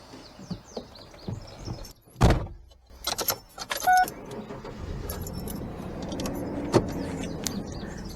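Getting into a car for a short drive during farm chicken chores: keys jangle near the mic, a car door thumps shut, then rustling, clicks and a low steady cabin rumble follow, with no talking.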